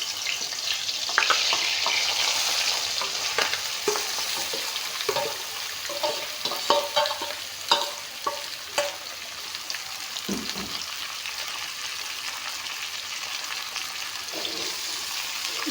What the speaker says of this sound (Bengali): এতিয়া মাংসখিনি ভালকৈ ভাজি ল'ম